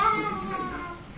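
A pet cat meows once or twice indoors in a noisy home while a game plays in the background, the call fairly close but mixed into room clutter.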